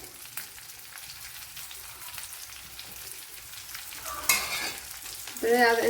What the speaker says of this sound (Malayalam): ഇനി ഇതിലേക്ക് ഒരു വലിയൊരു സവാള കട്ട് ചെയ്ത് വെച്ചിട്ടുണ്ട് അത് ഇട്ട് കൊടുക്കുക